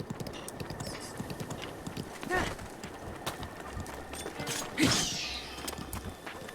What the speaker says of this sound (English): there's a horse in here that is so big it makes Link like a tiny person